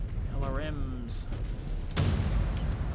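Long-range missiles launching from a battlemech in MechWarrior 5 Clans, a sharp burst of fire after a short voiced line, followed by a rumbling, rolling volley of impacts.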